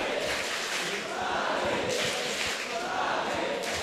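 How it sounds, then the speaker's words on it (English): At an esports LAN event, a Counter-Strike match on Dust2, a large arena crowd keeps up a continuous roar with rhythmic chanting, steady and dense throughout. "the crowd, they continue to chant"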